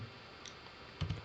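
A computer mouse clicks twice in quick succession during AutoCAD drafting, soft and close, in a quiet room.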